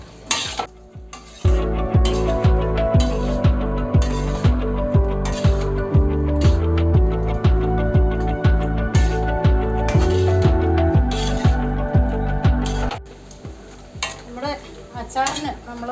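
Salted rambutan fruit added to a hot pan for pickle, with loud rhythmic stirring clatter of a spoon against the pan over a sizzle, ending quieter near the close.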